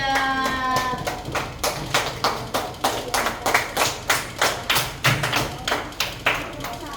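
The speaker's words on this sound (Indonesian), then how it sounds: "Tepuk tangan dong untuk kelompok 3" A classroom group claps for group 3, a steady, rhythmic run of sharp, loud claps that keeps a regular beat from start to finish with no talking over it.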